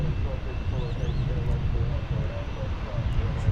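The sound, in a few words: Boeing 787 Dreamliner aircraft departing DFW Airport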